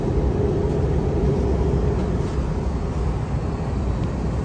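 Airplane cabin on a landing approach toward Maui: a steady, loud low engine drone and airflow rumble fills the space without a break, with no voices over it.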